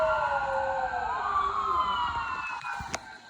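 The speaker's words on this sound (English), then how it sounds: "There's a squad going by out there." An emergency squad vehicle's siren wails steadily outside as it passes by, loud and continuous with sweeping tones over low traffic rumble, fading slightly toward the end.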